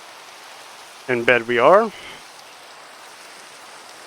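Soft, steady rain hisses in the background of a hardcore Minecraft world, with a brief spoken line rising over the constant patter.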